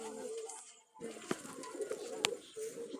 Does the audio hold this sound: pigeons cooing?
yes